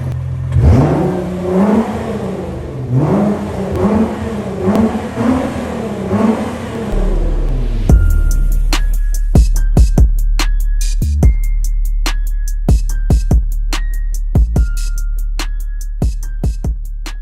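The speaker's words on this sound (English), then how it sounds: "on the GTR, it doesn't permit you to rev high enough in neutral" A 2017 Nissan GT-R engine revs in neutral, a steady low idle drone punctuated by a dozen or so short, sharp blips that rise and fall quickly, close and loud, with no talking.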